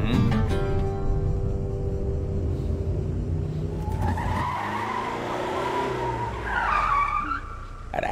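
A car in a comedy film scene skids to the roadside with a long rough tire screech over a rumbling engine, loud and close throughout.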